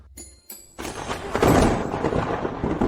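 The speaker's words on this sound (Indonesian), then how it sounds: "Petir." Thunder rumbles in after a couple of sharp clicks, building into a broad, loud roll that peaks and then lingers as a sustained, noisy crackling rumble.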